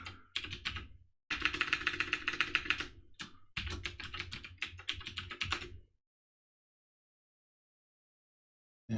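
Someone types a password on a computer keyboard while setting up Ubuntu, giving close, rapid key clicks in three bursts separated by short gaps, then silence.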